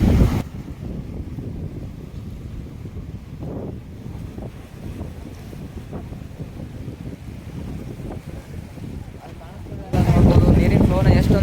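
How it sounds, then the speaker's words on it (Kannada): Seafront at Bandstand, Mumbai, with cool wind and fast-rushing sea water: heavy wind buffeting over a low continuous wash of water, with a sharp burst of louder gusting near the end. "ತಣ್ಣನೆ ಗಾಳಿ ಕೂಡ ಬೀಸ್ತದೆ, ಮತ್ತು ನೀರಿನ ಫ್ಲೋ ಕೂಡ ಜಾಸ್ತಿ ಬರ್ತಾ ಇದೆ"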